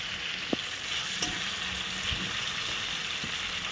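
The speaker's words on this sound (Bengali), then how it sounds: "এক পাশ ভাজা হয়ে গেছে এবার পরের পাশ উল্টে দিই" Fish frying in a pan with oil as the pieces are flipped to the other side, a steady hissing sizzle with a few brief clinks and taps of the turner, close and moderately quiet.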